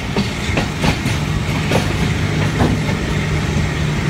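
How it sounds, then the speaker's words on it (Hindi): A Pakistan Railway rail car rolls into a station on the main line, its wheels clicking in a steady clickety-clack rhythm over rail joints with a continuous low rumble, close and loud. "मंदरा रेलवे स्टेशन पहुंच रही है गाड़ी।"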